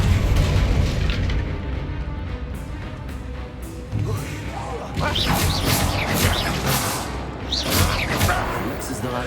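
A Confringo spell explosion in Hogwarts Legacy bursts with booming, crashing impacts over a dense layer of game combat sound, loud and continuous, with several sharp hits in the second half.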